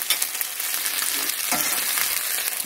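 Pork frying in a pan with rice for pork fried rice with veggies makes a steady, fairly loud sizzle and crackle, with a couple of soft stirring scrapes and no talking.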